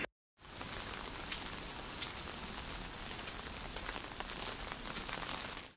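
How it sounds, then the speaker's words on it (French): Steady rain ambience from a played 4K city-rain recording, a dense, even hiss of drops on hard surfaces that begins after a brief silent start and continues unbroken at moderate level with no voices. "je mets juste bruit de pluie"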